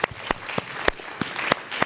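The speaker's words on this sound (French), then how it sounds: "Et on peut l'applaudir." An audience at a French design-thinking talk claps for a speaker: a thin, scattered handful of distinct claps at a moderate distance, irregular and fairly quiet rather than a full ovation.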